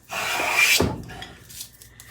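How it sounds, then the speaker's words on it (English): A Stanley hand plane, including a No. 4½, takes a shaving off the high edge of a wooden board in one close, continuous rasping stroke, then trails off into quieter handling. "when I plane across here, because this is lower, it's only taking a shaving off the higher one"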